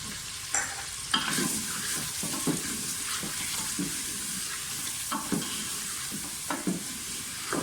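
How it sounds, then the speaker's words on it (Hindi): Mutton with whole cumin fries in a pan, a continuous close sizzle broken by repeated stirring clinks and scrapes of a spoon against the pan, no talking. "गोश्त की अच्छी तरह से भुनाई कर लें।"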